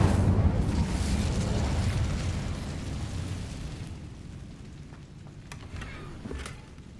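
A whooshing, roaring burst of flame from the Incendio fire spell in Hogwarts Legacy swells loudly at first, then fades into a low rumble, with a few faint clicks near the end.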